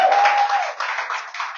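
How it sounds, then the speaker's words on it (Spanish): A church congregation applauds after a baptism service, a brief burst of clapping that is fairly close and thins out after about a second, with a high tone at the start. "Le damos un aplauso a Dios por la vida de Adrián Ramírez"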